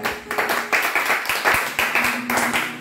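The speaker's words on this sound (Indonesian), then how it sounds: "Beri tepuk tangan." A church congregation clapping hands together in a quick, even rhythm, loud and close, with faint tones sustained underneath.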